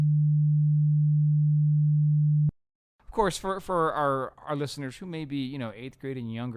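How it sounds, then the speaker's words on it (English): A pure, steady sine-wave tone hums at one low pitch for about two and a half seconds and stops abruptly. After a short silence, someone starts speaking. "a triangle wave can be actually made out of sine waves, which are the purest wave in a sense, which sound like this."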